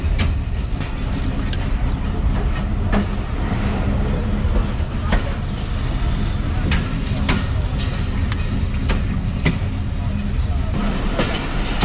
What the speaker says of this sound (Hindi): ट्रेन मेन लाइन पर स्टॉप कर रही है, प्लेटफॉर्म साइड पर नहीं जा रही।